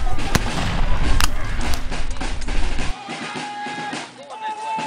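Artillery piece fired at a Civil War reenactment of General Hardee's retreat: a loud, sharp blast opening the clip with booming rumble and echo, then a sudden drop to quieter outdoor ambience.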